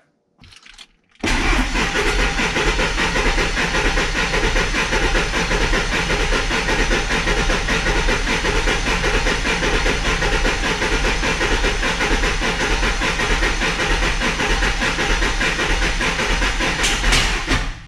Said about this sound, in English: we'll crank the truck over until we hopefully see some